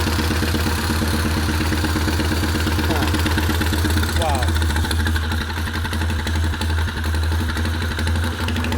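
An old motorcycle engine idles on choke while warming up, a loud, steady, even thump close by that continues throughout as a voice speaks briefly over it.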